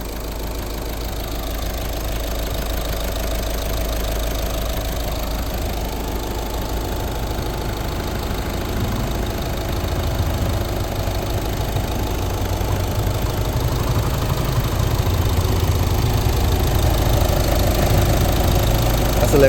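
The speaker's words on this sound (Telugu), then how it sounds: "ఇంజన్ అండి" A diesel engine idles in a 2015 Skoda Rapid Elegance Plus with the bonnet open, a steady close rumble with a knocking undertone that holds even and grows slightly louder toward the end.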